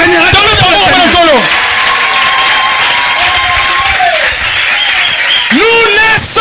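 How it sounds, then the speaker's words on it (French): A church revival congregation breaks into loud, dense applause and cheering up close, holding steady before a voice rises over it, with shouting voices at the start and end. "Acclamons pour le Seigneur."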